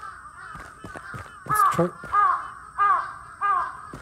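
Crows caw repeatedly in the horror video game Akai Onna, with several harsh calls in a broken rhythm. A person speaks briefly between the calls.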